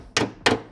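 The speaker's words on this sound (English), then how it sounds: "it's quite easier to get my arm behind it to hit it from here, flat with a hammer" A hammer strikes the dented bodywork of a classic Fiat 126 twice, about a third of a second apart, each blow a close, sharp metallic knock with a short ringing decay.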